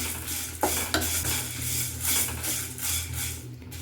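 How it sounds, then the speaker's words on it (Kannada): Spices being stirred and roasted in oil in a pan for traditional idli sambar: a steady close sizzle with a few sharp spoon scrapes against the pan, continuous and without speech. "ಇದನ್ನು ಇವಾಗೆಲ್ಲ ಜೊತೆಯಲ್ಲಿ ನಾನು ಹುರಿದು ರೆಡಿ ಮಾಡ್ಕೊಳ್ತೀನಿ."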